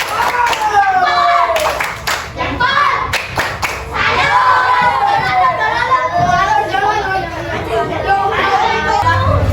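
A fourth-grade primary school class performs a rhythmic clap routine, sharp group claps in bursts between loud chanting children's voices, close and lively in a classroom.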